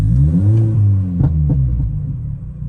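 A Mini Cooper engine in limp mode idles with a deep, close rumble, then rises briefly in a smooth, gentle rev before settling back, with a few soft knocks and clunks near the end.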